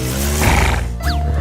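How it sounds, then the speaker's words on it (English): A horse at a horse rescue lets out a loud, close neigh: a rough whinny that rises and breaks into quavering pitch bends before trailing off. "There are all kinds of horses here at the Horse Rescue."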